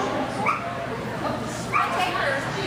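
A dog at a novice jumpers-with-weaves agility trial gives a couple of brief high yips and whimpers amid steady background crowd noise and nearby talk.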